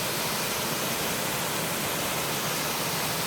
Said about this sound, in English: But definitely a strong water flow.